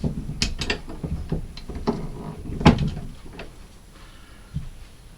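A Morris Minor gearbox synchro hub is worked by hand in a vise, giving sharp metallic clicks and clanks with one louder knock, then quieter scraping.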